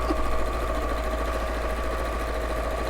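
A sewing machine hums and whirs continuously at a steady speed while stitching fabric strips together, a close, even mechanical drone with a fast stitching pulse.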